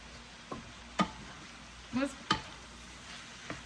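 Rice with spices being stirred in a pan over medium heat, a few soft separate scrapes and clacks of the utensil against the pan over faint background noise.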